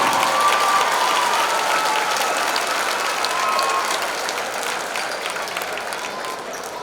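Audience at a high school varsity girls basketball tournament applauding the all-tournament team, a dense sustained clapping from a large crowd that slowly fades toward the end.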